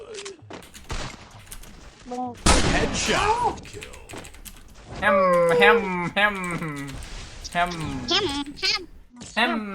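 Burst of AM500 gunfire in the video game Garena Free Fire, a loud crackling volley early on, followed by voices talking over game sounds.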